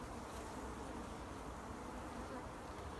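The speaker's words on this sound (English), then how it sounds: "Oh, I guess we got a robber bee." Honey bees at a hive, with a robber bee among them, fill the air with a faint, steady, dense buzzing that continues without pause.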